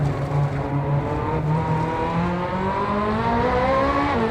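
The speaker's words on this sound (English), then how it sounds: "I love the sound of this engine." A Ferrari engine in the racing game Assetto Corsa revs continuously, its loud note climbing steadily in pitch as the car accelerates, alone with no talk.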